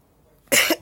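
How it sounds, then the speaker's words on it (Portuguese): A single harsh cough bursts out of near silence, up close and loud, followed by a brief second catch of breath. "Eu tô tossindo, por isso vai ficar ruim um pouco pra vocês"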